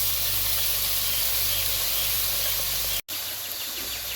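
Tomatoes dropped onto sautéed onions in a pan for kuska biryani set off a steady, close hiss of sizzling that runs unbroken for several seconds, with a brief gap before the frying resumes.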